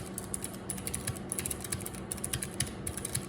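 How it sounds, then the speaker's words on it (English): Typing on a custom Helix mechanical keyboard fitted with Cherry MX Blue switches: rapid, close, crisp clicky keystrokes in uneven bursts with brief pauses, no talking. "But let's try typing on it."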